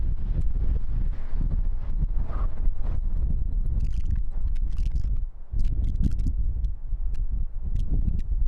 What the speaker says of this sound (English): Currently, there's a lot of wind blowing from the west.